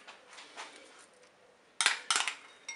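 Farfalle pasta stirred in a Cookeo multicooker pot, soft scraping at first, then a few sharp, close clatters of a spoon against the pot.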